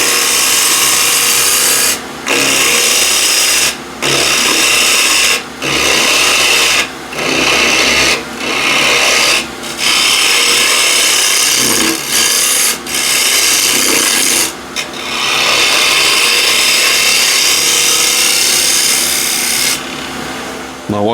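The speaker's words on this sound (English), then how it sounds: "Spindle gouge." A spindle gouge cutting a walnut spatula pot blank spinning on a wood lathe, a loud continuous rasping shear broken by short regular pauses as the tool lifts away, close up and without talking.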